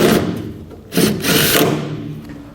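A power driver with an 8mm socket runs a screw in while mounting a Pollak 5th wheel/gooseneck T-connector with 7-pole plug, giving two loud whirring bursts with a brief pause between and a tapering finish.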